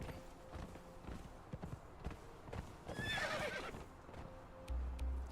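A horse in the video game Conan Exiles gives a clear whinny amid rhythmic clip-clopping hooves, with soft game ambience around it.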